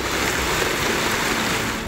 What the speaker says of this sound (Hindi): कोलू में 3 रोज से वक्फे से बारिश जारी।